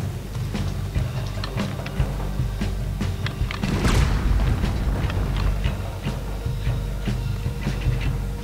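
Cannon fire booms out during a Red Dead Redemption 2 island battle, a loud deep blast swelling midway through a dense, rumbling din of gunfire and action sounds, with no clear speech.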